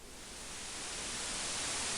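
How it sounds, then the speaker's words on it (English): A steady hiss of white noise from the PC game Space Quest 2: Vohaul's Revenge fades in quickly and holds at an even, fairly faint level for two seconds with nothing else heard. "White noise."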